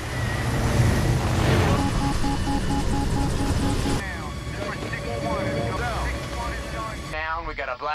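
In a film scene, a Black Hawk helicopter is hit and brought down by an RPG. Rotor and engine noise and crashing effects play under a narrator's voice, then the sound cuts to quieter effects.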